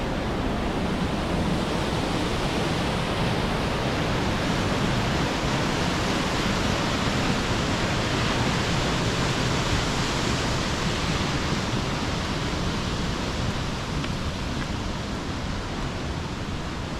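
Steady rushing roar of the Langtang stream and waterfalls coursing through a Himalayan valley, a dense, continuous broadband wash of flowing water filling the whole stretch without a break or any voices.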